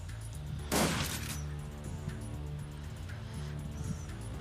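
Shotgun blasts ring out in the Shadowrun Dragonfall video game, a loud burst near the start followed by fainter shots over steady background game music.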